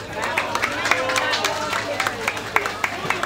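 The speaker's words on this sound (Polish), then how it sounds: "Brawa dla Gołomi." Applause and scattered clapping from an outdoor crowd at a village council competition and picnic in Igołomia, steady and fairly close, with crowd chatter and voices mixed in throughout.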